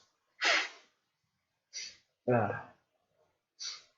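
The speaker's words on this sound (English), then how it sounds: "I'm gonna blow my nose." Four short bursts of a person blowing their nose, breathy rushes spaced across a few seconds, close and fairly loud, with one burst sounding more voiced and snorting.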